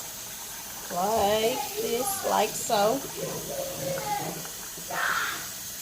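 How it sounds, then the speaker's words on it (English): A kitchen faucet runs cold water into a sink to rinse food, a steady soft gush sitting beneath a person talking throughout. "I put my water on cold because that's how you gotta rinse it out. You rinse it out in cold water."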